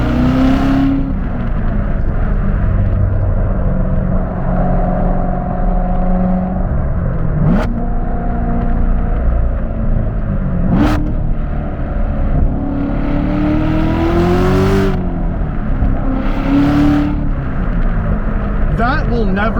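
A 650 hp 2017 Corvette Z06 accelerates hard and loud from close inside the car, its engine note climbing through several gears with sharp rises and brief drops at each shift, over a constant road roar.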